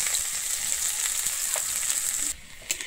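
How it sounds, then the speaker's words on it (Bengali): Chopped garlic sizzling in oil with asafoetida, nigella seeds and dried chillies for a Bengali pointed gourd bharta: a dense, loud, steady frying hiss that drops suddenly, followed by a faint clink. "আমার রসুনটা কিন্তু ভাজা হয়ে গেছে"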